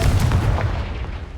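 The Confringo fire spell in the Hogwarts Legacy video game goes off as one short, heavy booming blast, loud and low, fading within about a second and a half with no voices.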